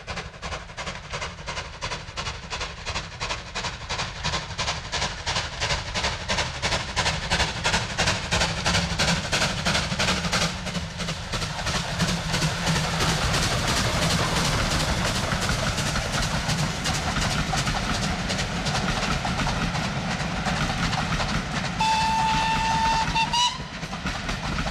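A Super D steam locomotive works hard on the East Lancashire Railway, with rhythmic chuffing that builds and quickens as it nears, clattering wheels, and a brief whistle toward the end.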